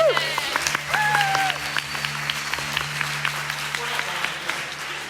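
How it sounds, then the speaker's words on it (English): An audience at a live band performance in Newtonmore claps steadily, with dense, sustained applause filling the space and a few faint voices mixed in. "let's give one huge round of applause at the end"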